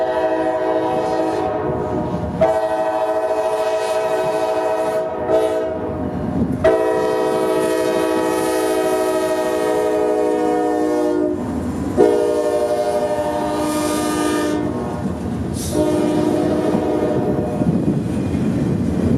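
Norfolk Southern freight train NS 249 sounding its multi-tone horn in several long blasts and shorter breaks, loud and fairly close, with rumbling rail noise underneath.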